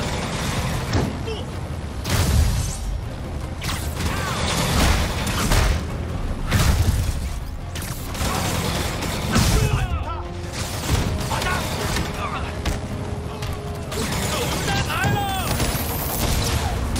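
Gunfire and crashing booms in Marvel's Spider-Man Remastered, loud repeated bursts and impacts over a busy action soundscape, with speech mixed in.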